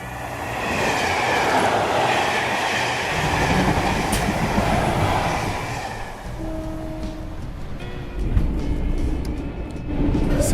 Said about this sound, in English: So we're in this Australia train right now, traveling from Brisbane to Sydney